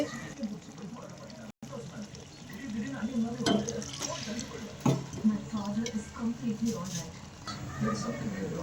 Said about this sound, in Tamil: இப்போ வந்து கொஞ்சமாக தண்ணி சேர்த்துக்கணும்